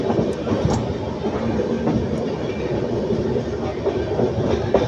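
Train pulling into Salem station in India, a continuous close rumble of rolling rail wagons with faint clicks and brief metallic squeaks throughout.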